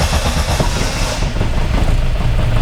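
An Austin Mk1 engine with an Arden 8-port head cranks and churns loudly and steadily, a rough, dense mechanical rumble that carries on throughout without speech.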